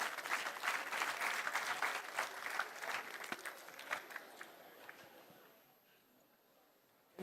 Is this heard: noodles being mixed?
no